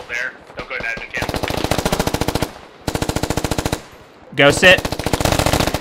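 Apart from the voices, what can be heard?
gunfire from the video game Squad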